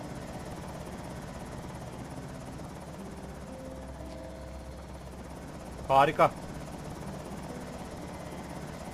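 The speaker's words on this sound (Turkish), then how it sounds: "Sürekli neden helikopter geliyor?" A helicopter's rotor in the video game Project Zomboid drones steadily throughout at a constant level, and a single short spoken word cuts in briefly near the end.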